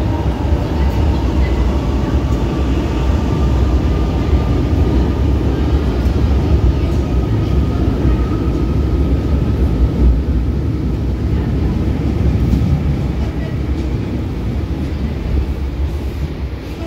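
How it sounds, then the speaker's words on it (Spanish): A loud, steady rumble of a departing Buenos Aires subway train rolling along the tracks, with a faint whine on top and voices murmuring beneath. "el subte ya se va."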